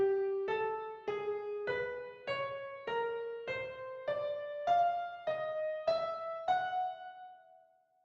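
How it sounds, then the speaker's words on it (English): A twelve-tone row played as a sequence of single pitched notes, about a dozen evenly spaced tones at a steady pace, each note clear and alone, the last one ringing out. "Tone row might sound like this,"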